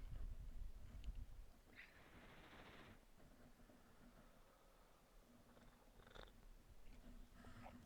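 A small cat purring close by, a soft low rumbling flutter that runs on quietly with a few breathy rustles and a brief louder hiss partway through.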